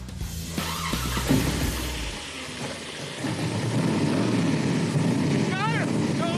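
A 1974 Chevy Corvette engine cranks and catches, then settles into a loud rough idle with a steady low rumble, close by.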